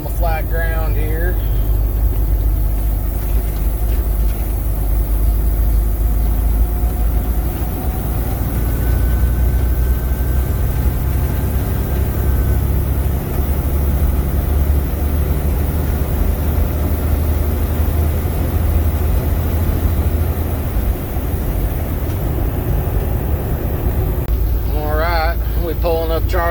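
Heavy truck with a Maxxforce 13 diesel engine pulling under load on flat ground, a steady, loud, low engine drone running continuously throughout, with a faint rising whine briefly heard.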